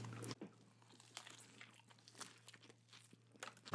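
Crunchy bites and chewing of a Smashburger Miami Burger topped with fried potatoes, with several crisp snaps and close mouth noises, no talk.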